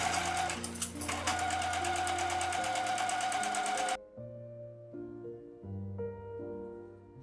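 A sewing machine stitches through a bulky layered denim section of a tote bag, running as a fast, even mechanical whir for about four seconds before stopping, leaving only soft background music.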